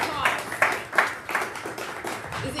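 A small audience at a podcast recording gives a speaker a round of applause, scattered clapping rising in several bursts, moderately close and fairly light, with voices mixed in.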